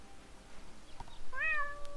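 A cat in the point-and-click game Deponia gives a single clear, short meow near the end, alone over quiet background.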